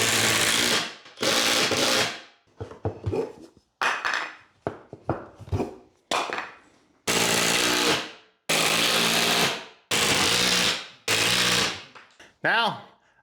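A power driver sinks decking screws in a garage storage build, with repeated loud whirring bursts of a second or so, each winding down, separated by short pauses and clicks.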